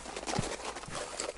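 Horse hooves clip-clopping in Forestry 2017, heard as a few scattered, moderately loud hoof thuds over a busy game background with no talk.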